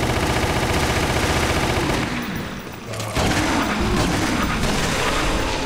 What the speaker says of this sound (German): Die Automatikpistole